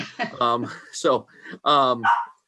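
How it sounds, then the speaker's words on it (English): A dog barks several times indoors, short loud yips and barks in two quick bursts, close to the microphone. "my dog's barking in the background"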